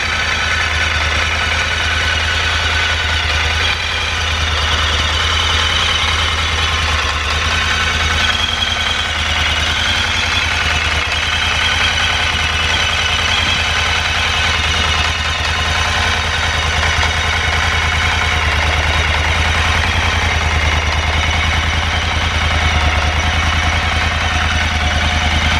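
A motorcycle with a standard exhaust idles at a steady, close, loud rumble, with an even low throb and a knocking vibration that continue unbroken and alone.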